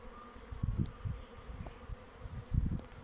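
A low, steady buzz of a honeybee swarm hums around the hive, with soft thumps and rustling close by.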